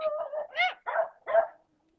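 A dog lets out four or five close, sharp barks and yips in quick succession, each bark distinct, before falling silent.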